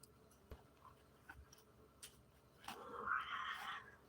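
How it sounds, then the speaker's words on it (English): A domestic cat gives a soft, drawn-out yowl near the end, preceded by faint ticks and small noises in a quiet room. "That's what my cat says."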